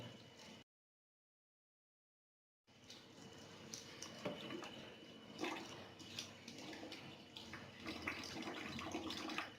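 Water runs from both the fresh-water and waste-water outlets of a water purifier, a quiet steady trickling and splashing that starts after a brief dropout and continues faintly with small splashes.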